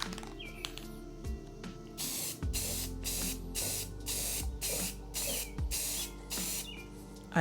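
A second coat of rattle-can spray paint going on in a run of short, close hissing bursts with brief gaps between, each puff preceded by a faint can rattle.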